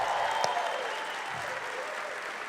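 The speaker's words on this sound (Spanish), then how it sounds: "I'm glad you clapped" Audience applause at a John Maxwell leadership event in Panama, a moderate, even wash of clapping from a crowd that holds steady and fades slightly across the moment.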